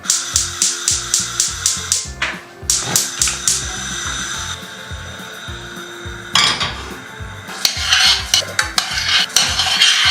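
Rice frying in a pan while a utensil stirs and scrapes it, giving repeated rhythmic metallic scraping strokes over a continuous sizzle; loud and close throughout, with no speech.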